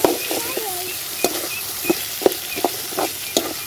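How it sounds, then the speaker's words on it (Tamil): Drumsticks and curry leaves sauté in a pan for a prawn and dried-fish kuzhambu. Irregular scraping stir strokes and light taps sit over a soft, steady sizzle, close and moderately loud, with no talking. "அந்த முருங்கைக்காய் போட்டுட்டாரு. நல்லா வதக்கணும்."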